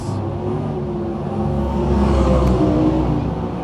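Sprint cars race around the Can-Am Speedway, a loud continuous engine roar that swells slightly as the field passes close by, with no talk over it.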